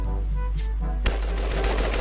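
Real-world gunfire goes off at a shooting session, one sharp loud report followed by rapid bursts over a constant low rumble.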